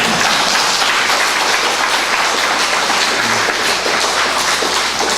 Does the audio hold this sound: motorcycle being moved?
no